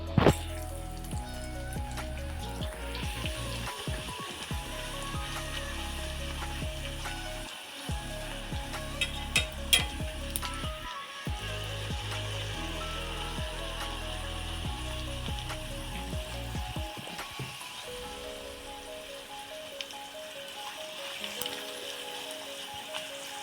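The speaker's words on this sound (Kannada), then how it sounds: "ನೋಡಿ ಎಣ್ಣೆ ಕಾದಿದೆ, ನಾನು ಇವಾಗ ಪೂರಿ ಹಾಕಿದ್ದೀನಿ" Puri deep-fries in hot oil with a steady, crackling sizzle that runs close and moderately loud throughout, thinning slightly toward the end.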